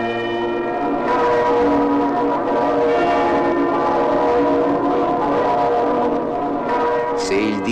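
The church bell of Civita rings out in sustained, resonant tolls that blend into one another, with a long humming decay and a few faint background noises near the end.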